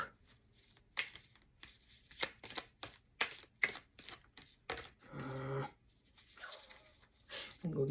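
A new, slightly sticky card deck is shuffled close by in a quiet room, giving a string of sharp papery riffle bursts and flicks at an uneven pace, with a softer rustle between them.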